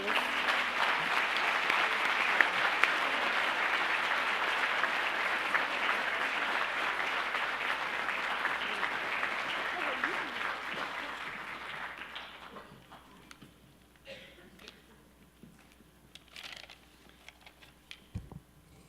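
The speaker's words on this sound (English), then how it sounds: "Please join me in a round of applause for our new inductees." A high school auditorium audience applauds new National Honor Society inductees at Strongsville High School in 2017. The dense, steady clapping carries for about twelve seconds, then thins out to a few scattered claps and quiet room noise.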